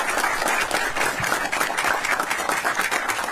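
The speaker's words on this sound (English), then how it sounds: "we owe him a big round of applause for all he's done for us" A crowd applauds the governor at a housing investment announcement in Virginia, with dense, steady clapping at a moderate level throughout and no voices on top.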